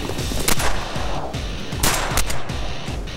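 Several loud shotgun blasts ring out outdoors during a bird hunt, a few sharp reports spaced across the moment with echoing tails.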